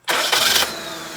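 An old forklift engine cranking and catching, a loud, close burst that settles quickly into a steady idle, with no talking.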